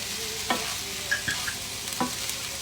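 Peppers and onions frying and browning in a pan, a soft continuous sizzle with several sharp clinks and scrapes of stirring utensils, close and moderately quiet.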